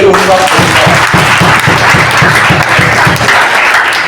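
Church congregation claps in a steady rhythmic beat, loud and close, with voices cheering and acclaiming over the clapping.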